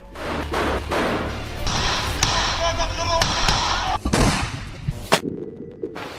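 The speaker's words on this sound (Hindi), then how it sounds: "यहीं से फिर आईडीएफ और हमास के बीच ताबड़तोड़ गोलीबारी शुरू हो जाती है" Heavy gunfire between IDF and Hamas fighters, loud sharp bangs and thuds scattered among dense rumbling noise, with voices talking under and between the shots.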